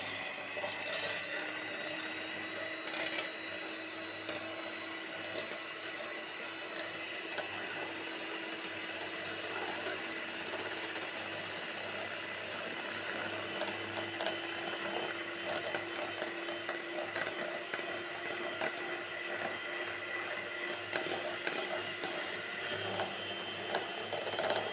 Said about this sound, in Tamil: இப்போ முட்டையை வந்து நல்லா பீட் பண்ணி எடுத்துக்கோங்க